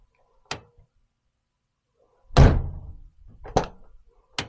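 Door of a Mazda Miata under restoration being closed gently: a sharp thunk, then a louder heavier close and further brief latching knocks, close by and isolated in a quiet space.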